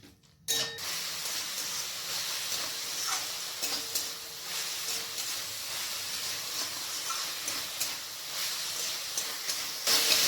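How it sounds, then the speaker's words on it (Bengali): Ginger-garlic paste frying steadily in a pan over medium-low heat, a continuous close sizzle and hiss with faint stirring scrapes, running alone without talk. "এরপর আদা আর রসুনের পেস্টটাকে আমি ভালো করে ভেজে নেব"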